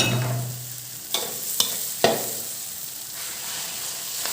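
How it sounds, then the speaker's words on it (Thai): Minced pork for pad kra pao stir-fries in a pan as a soft sizzle, broken by three sharp spatula knocks against the pan, with no talking. "ใส่เนื้อใส่หมูแล้วลงไป นี่แหละได้ที่ ต้องผัดนานนิดนึงอ่า"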